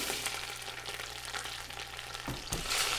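Vermicelli and rice toasting in a pot for homemade Rice-A-Roni, a close, continuous dry sizzle with a spoon stirring and scraping through, and a couple of short knocks near the end.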